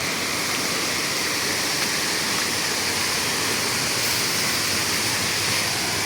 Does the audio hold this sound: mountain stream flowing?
yes